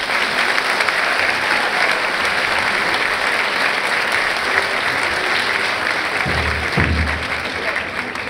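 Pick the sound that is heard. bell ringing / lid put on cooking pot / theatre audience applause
theatre audience applause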